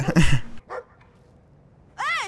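A dog barks in the video game Brothers: A Tale of Two Sons, one loud sharp bark followed by a brief fainter yelp, with a voice near the end.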